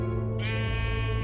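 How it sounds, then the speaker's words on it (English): A sheep bleats once in Minecraft Story Mode, a sustained harmonic bleat rising after a brief start and holding steady and close over a low game hum, with no talk. "A sheep?"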